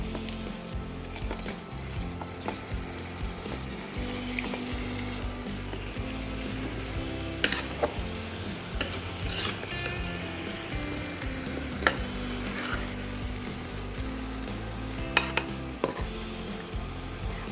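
One kilogram of mutton frying with ginger garlic paste and turmeric for a hotel-style mutton curry sizzles steadily in the pan, with occasional sharp clinks and scrapes from stirring and no talking.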